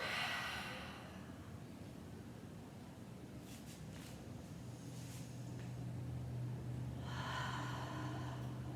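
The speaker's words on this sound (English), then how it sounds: "Inhale through the nose, exhale through the mouth." Deep yoga breathing during a hot yoga session, with a strong breath at the start and another near the end, faint and close, over low background hum and no talking.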